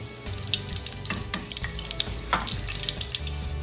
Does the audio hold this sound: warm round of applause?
no